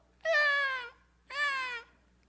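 A preacher imitates a cat with two drawn-out, nasal meows, each about half a second long and separated by a brief pause, close and clear against a quiet background.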